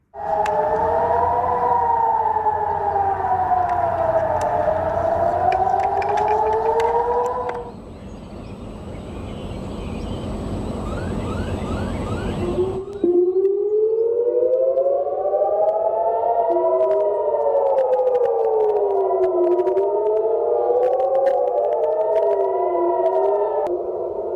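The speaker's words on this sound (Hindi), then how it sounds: "सायरन की आवाजें आ रही हैं" Loud, wailing air raid sirens in Israel during an Iranian missile attack rise and fall continuously, with a brief noisy lull in the middle before several overlapping sirens resume, sustained and without speech.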